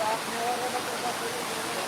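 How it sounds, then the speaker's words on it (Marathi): Heavy cloudburst-like rain pouring down at Pirachi Kuroli: a dense, continuous broadband hiss of downpour, steady and close, with a voice faintly audible beneath it. "बघा हा पाऊस पिराची मधला सगळ्यात इतिहासात नोंद होणारा जबरदस्त पाऊस आज या ठिकाणी सुरू आहे"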